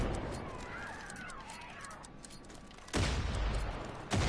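Gunfire in Far Cry 5 targets the player, a steady rattle of game shots and noise, broken near the end by two loud sudden blasts.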